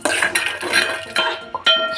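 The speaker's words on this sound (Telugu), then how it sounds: "కొన్ని జీడిపప్పులను కూడా వేసుకొని కొంచెం స్టిర్ చేసి ఫ్రై చేసుకోవాలి." Cashews are stir-fried with cardamom and cloves in hot oil in a pan, with a close spoon scraping and clinking against the metal in a few quick strokes, no voice heard.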